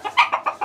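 A rooster at a gamefowl breeding farm in Peru gives a quick series of four or five short clucks in under a second, close to the microphone and fairly quiet, with no talking.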